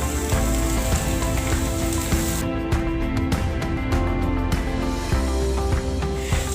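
Sliced onions sautéing in oil in a pan for a potato kurma curry, a steady, dense sizzle running throughout under faint kitchen noise.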